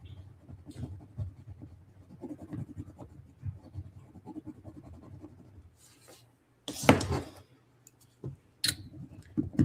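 Colored pencil rubbing and scratching across a small wooden earring, with soft, close, irregular strokes that build to a few louder bursts of scraping near the end.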